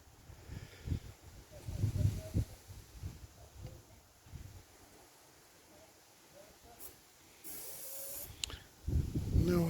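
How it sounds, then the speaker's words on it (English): A gauge one garden railway steam locomotive working outdoors, giving bursts of hissing steam and chuffing that rise and fall, with a loud sustained hiss near the end. "that sounds more like a locomotive in action"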